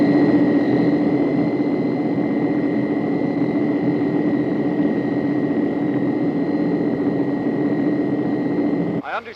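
Steady, droning engines of a four-engine propeller airplane hum continuously from inside the plane in flight, with a low rumble and constant tones, cutting off abruptly at the end.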